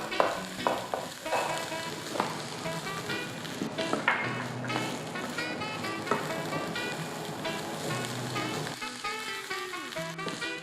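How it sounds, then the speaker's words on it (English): An egg is scrambled into a cauliflower rice stir fry in a hot pan, with constant sizzling and frying and repeated scraping and clacking of a utensil as it is stirred. "I'm just gonna scramble it right in there to my stir fry"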